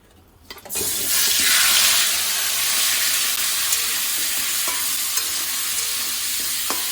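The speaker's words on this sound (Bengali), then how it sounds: "এখানে কাঁকড়াগুলো দিয়ে দিয়েছে তো এটা এখন চলো একটু ভাজা হতে লাগুক" Loud, steady sizzling of crabs frying in hot oil, starting abruptly after a brief quiet moment and continuing with occasional stirring clinks.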